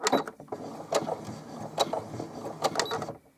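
A Brother INNOV-is 20 sewing machine stitches in reverse and then forward, giving brief mechanical clattering bursts and clicks close by, with short pauses between them and no talking.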